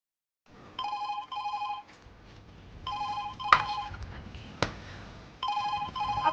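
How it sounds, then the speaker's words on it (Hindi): A telephone rings in repeated double bursts, loud and close, in a home setting, with short pauses and a couple of sharp knocks between the rings. "आपका फोन कितनी देर से बज रहा है, उठाती क्यों नहीं आप?"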